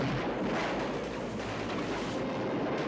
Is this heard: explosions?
yes